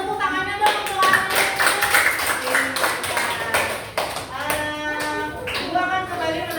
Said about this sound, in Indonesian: Tepuk tangannya dong untuk Alif.